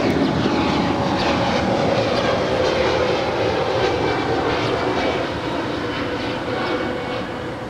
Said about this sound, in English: We also have United Airlines Flight 514. It's a 757-200, originally with Continental